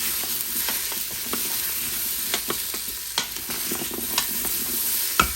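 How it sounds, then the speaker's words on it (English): Onions and vegetables are stirred in an Instant Pot, with a steady sizzle under repeated scraping strokes of a spoon against the pot, irregular and close, with no talking. "now you can add in the rest of your vegetables into the pot. Give it a good stir."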